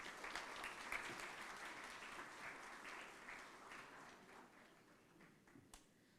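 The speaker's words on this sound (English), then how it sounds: "Please give them a round of applause." Audience applause at a national quality awards ceremony, a sustained spread of many hands clapping that slowly fades over several seconds without speech.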